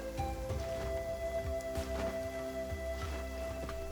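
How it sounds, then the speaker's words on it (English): Steady rain falls in the video game Genshin Impact, a soft continuous patter with faint droplet ticks beneath a layer of sustained game music tones, no voices. "it is raining"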